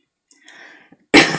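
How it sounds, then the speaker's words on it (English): A single harsh cough bursts out loudly after a second of faint breathing and throat sounds, close to the microphone, with no speech. "I don't need a cough."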